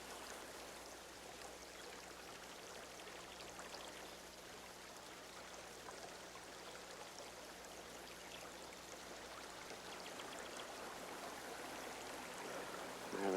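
A brook flowing, a soft, steady broadband rush of water with no change or pauses, faint and continuous throughout.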